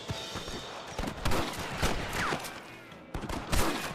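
Rapid gunfire from a shootout in the video game Red Dead Redemption, a dense, continuous crackle of overlapping shots at close range, loud throughout with brief lulls.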